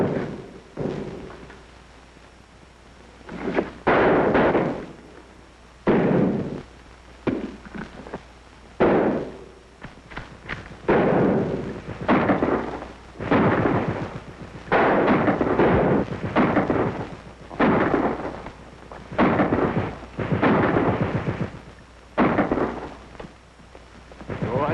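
Gunfire and artillery from an old war film, a series of heavy booming blasts and rumbling bursts recurring irregularly, some close and loud, others trailing off into rumble.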